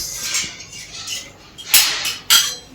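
Plates and spoons knocked together at home, with teaspoons, tablespoons and a small pressure-cooker lid among them, making scattered clinks and two sharp metallic clatters near the end, close and alone.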